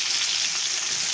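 Sliced pointed gourd (potol) frying in a pan in a home kitchen, giving a steady, dense hiss of hot oil that is close and continuous, with no voices.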